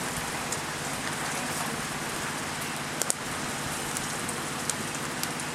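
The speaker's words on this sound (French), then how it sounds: "Voilà, il pleut" Steady rain falls outdoors at a camp with a fire going, a dense, even hiss with a few sharper drip ticks scattered through it, with no voices.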